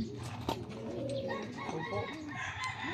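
Breeder pigeons in a fancier's loft cooing and fluttering close by, a busy overlapping chorus of soft calls with a few sharper bird notes.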